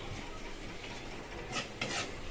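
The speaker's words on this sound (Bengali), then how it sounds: "একটু জল দিয়ে একটু নাড়াচাড়া করে নেব" Egg, potato and cauliflower curry in a pan after water is added, stirred with a soft continuous hiss and a couple of brief scraping swishes, faint and close.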